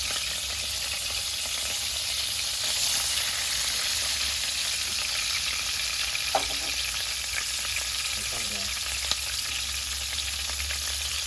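Shrimp fry in a pan for a garlic shrimp dish, giving a steady, close sizzling hiss for the whole stretch with a few faint clicks and stirring taps.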